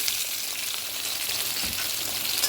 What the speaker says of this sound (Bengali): এটাকে ভালো করে ভাজা করে নেবো